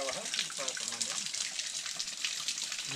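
Crystal-clear, cold water flows from a mountain spring in El Salvador as a continuous gushing rush, with people talking over it.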